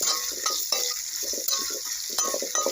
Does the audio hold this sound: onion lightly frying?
yes